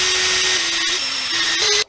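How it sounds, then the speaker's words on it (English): A power drill bores holes in the wooden body of a ukulele kit, a steady loud whine held close up for nearly two seconds, dipping slightly in pitch as it bites before cutting off abruptly. "I'm gonna try my very best to drill as straight as possible."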